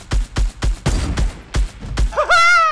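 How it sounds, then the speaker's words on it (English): Gunfire in Fortnite Battle Royale aimed at a wooden structure, a run of about eight punchy shots spaced irregularly close up, ending in a rising electronic chirp. "I'm gonna shoot down this wood right here"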